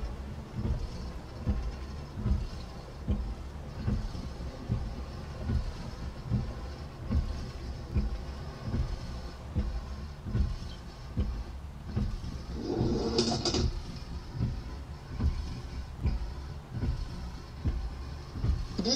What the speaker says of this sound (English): Please hold on as this train is stopping.